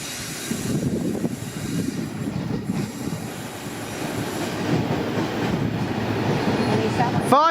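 A train passing in North Melbourne, its wheels rolling and clattering at a steady rumble with a sharp rising squeal near the end, fairly close and moderately loud.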